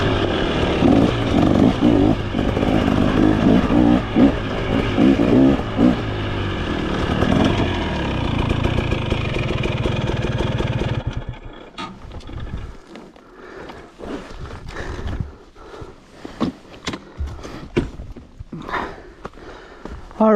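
A bone-stock 2023 KTM 300XC two-stroke dirt bike fitted with an Enduro Engineering spark arrestor, ridden on trails: a loud, dense engine roar for about eleven seconds, then quieter rattling and clattering with scattered knocks.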